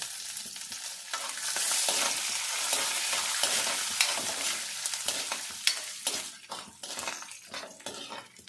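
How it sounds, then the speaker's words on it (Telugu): Dried red chillies and garlic frying in a pan for a fenugreek leaf chutney, a steady close sizzle with scraping stirs and light clinks of a utensil against the pan. "ఇలా దోరగా వేగిన తర్వాత ఇందులోనే ఎండుమిర్చి, ఈ వెల్లుల్లిపాయలు వేసేసుకోవాలి"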